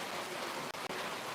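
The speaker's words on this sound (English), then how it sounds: "It does sound like hail. That's how heavy the raindrops are." Heavy rain with large drops falling steadily, a dense close hiss throughout with two very brief dropouts near the middle.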